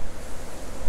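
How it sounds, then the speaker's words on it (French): Gusty sideways wind buffets the microphone outdoors while fishing for bleak with a telescopic pole, a rough rushing roar that swells and dips over one second. "Pour traverser aussi les rafales de vent qu'on a. En plus c'est un vent latéral qu'on a."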